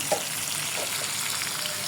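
Oil sizzles and crackles steadily and close by, a continuous frying hiss with a brief stir near the start.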